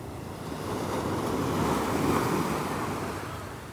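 Ocean surf at Brighton Beach, New York rolls in as a steady, broad wash that swells and then recedes, with some wind buffeting and no voices.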